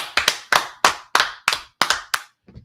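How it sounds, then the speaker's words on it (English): Hands clapping in sharp, evenly spaced claps at a brisk pace, loud and close in a quiet room, with two or three people clapping and the claps slightly blurring into doubled strikes. "clap it up, clap it up, clap it up"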